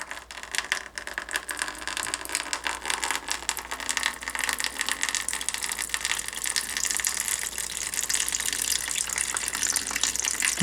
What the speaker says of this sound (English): we'll go ahead and just take out this drain hose. We're going to drain just a little bit of the water.